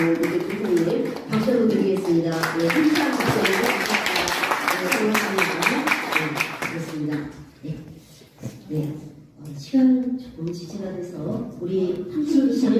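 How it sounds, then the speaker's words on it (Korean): A crowd applauds with dense, rapid clapping for several seconds at a National Assembly forum, then it fades and people start talking. "함께 박수 드리겠습니다"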